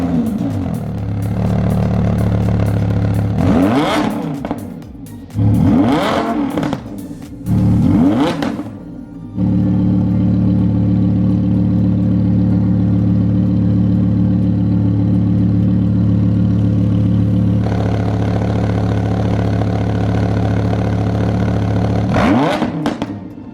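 An 800 hp Lamborghini with party whistle horns fitted in its exhaust tips is revved in several loud, short bursts, then holds a long steady drone before one final rev.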